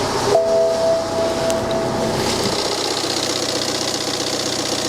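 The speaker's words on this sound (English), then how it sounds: "let's get the engine fired up and see if we have any issues" A diesel engine turns over and settles into a steady, rumbling idle with a knocking, rattling texture, loud and close throughout.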